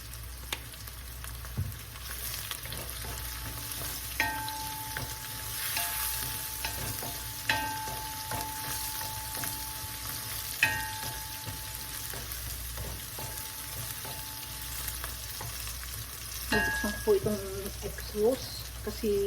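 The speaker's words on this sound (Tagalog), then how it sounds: "Ang gusto ko po kasi ang patis, ginigisa din para po mawala yung lansa." Fish sauce sautéing in a pan for a shrimp coconut stew, a steady low sizzle with occasional scrapes and clinks of stirring, close, with a few louder utensil knocks near the end.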